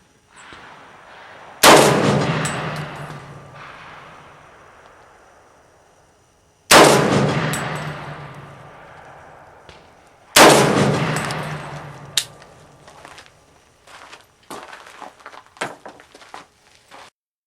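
A 300 AAC Blackout pistol with an 8.5-inch barrel, loaded with IMR4227, is fired three times at a range, each shot sharp and loud with a long decaying echo, followed by faint clinks and shuffling.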